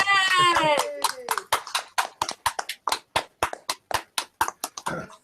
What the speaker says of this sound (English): can we give Rich a nice big hand of applause, round of applause?